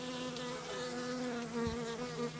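Steady, close buzzing of many honeybees around a hive, a continuous droning hum with no voices.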